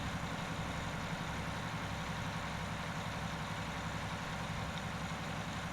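Steady, continuous low rumble of a heavy truck engine idling in American Truck Simulator, a droning game engine sound holding at an even level throughout with no talking.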